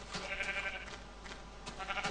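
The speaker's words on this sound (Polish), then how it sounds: "O, owce. Owce" Sheep in the Minecraft video game bleating in a few short, wavering calls over a quiet background.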